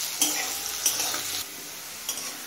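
Potato and carrot pieces fry in a pan for a vegetable dish with radish greens, a steady soft sizzle broken by a few brief scraping stirs, close and moderately loud with no voices.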